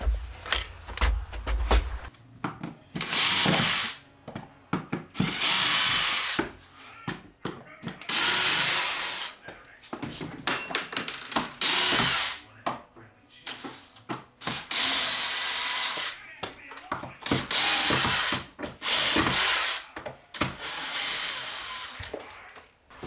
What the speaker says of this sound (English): I just have to cut through that caulking.